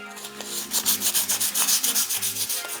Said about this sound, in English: I just chose to hit this with some WD-40 and some 2000 grit sandpaper, and it took it off pretty well